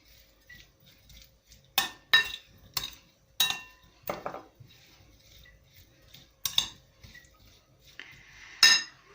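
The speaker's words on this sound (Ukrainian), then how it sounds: "Тепер перемішаю." A utensil stirs marinated beetroot with garlic in a bowl, giving irregular sharp clinks and scrapes against the dish spaced between quieter stretches of soft movement.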